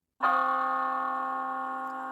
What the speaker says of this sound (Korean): 12시를 알리는 종소리가 들리자